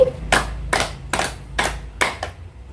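Five sharp hand claps ring out at a steady, spaced rhythm, the last two coming closer together, close and distinct with quiet between them.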